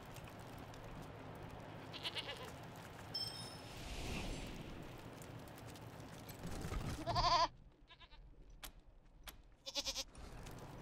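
Goats bleat in the post-apocalyptic video game Wasteland 3, with a few short calls over a low ambient game rumble, then a sudden drop to near quiet broken by scattered clicks and one more bleat.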